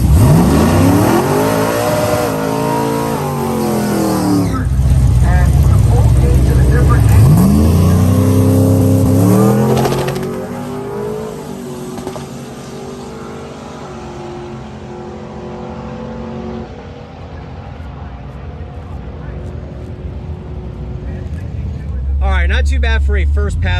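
A nitrous-fed Chevrolet Trailblazer SS makes its first run on a new combination, its engine roaring loud and rising through the gears, then fading into the distance before a closer rumble returns near the end.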